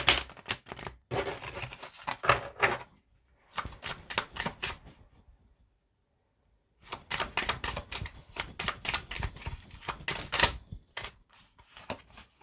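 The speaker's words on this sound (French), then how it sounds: "je vais prendre des cartes du tarot traditionnel pour nous dire un petit peu le mois de septembre" Traditional tarot cards are shuffled in several long runs of rapid, crisp riffling flutters, close and clear, broken by a few seconds of silence.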